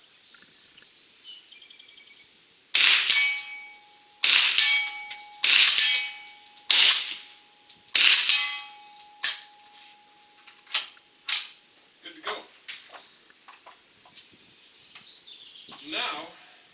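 Metal clacks and clicks from a Stevens Model 87 rifle action being worked, a run of sharp ringing snaps in quick succession, close up, followed by softer scattered clicks.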